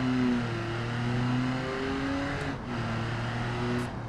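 A six-cylinder engine in a live-axle muscle car in a racing video game, holding a steady droning note with its pitch sliding up and down as it revs, close and continuous.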